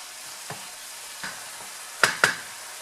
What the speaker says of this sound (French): On va le laisser mijoter comme ça le temps qu'il faut.